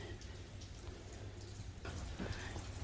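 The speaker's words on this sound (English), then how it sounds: "the rain has kind of slowed down." Steady light rain falls during a boat renovation, a soft continuous patter on surfaces that stays faint and even throughout, with no voices.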